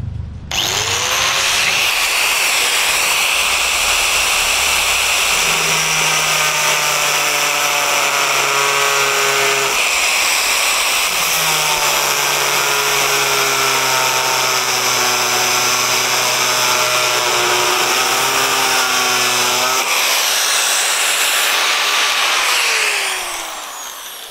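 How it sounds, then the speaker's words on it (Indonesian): A budget angle grinder cuts through a 3 mm thick, 3 cm wide steel plate, a loud, sustained high whine with shifting pitch, briefly dipping mid-cut before resuming and spinning down at the end. "kita tes dulu uh, motong besi plat besi ya, tepatnya ini plat besi ukuran 3 mm dengan lebar 3 cm"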